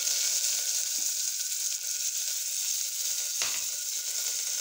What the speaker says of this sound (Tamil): ஃபஸ்ட்டு கருவேப்பிலை, பட்டை, கிராம்பு எல்லாம் போட போகிறோம் எண்ணெயில்.